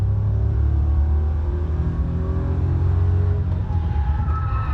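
A car's engine drones steadily as it races around a test track, a loud continuous rumble with gentle rising revs and no pauses, close and unbroken throughout.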